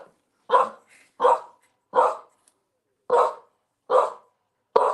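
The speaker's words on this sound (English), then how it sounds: "What are you barking at, Mr. Drew the dog?" Dog named Mr. Drew barks six times in a steady, evenly spaced series, loud and close, each bark short and clear against silence.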